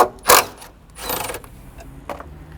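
An 11 mm socket wrench loosening a valve cover bolt on an E90 BMW 335i with the N55 engine gives a few short, close mechanical ratcheting clicks and scrapes.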